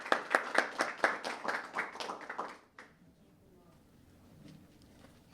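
Audience applause welcoming Dr. C. Christine Fair as she takes the stage: a dense, steady burst of clapping from a room of listeners that stops abruptly after about three seconds, leaving a quiet murmur of room noise.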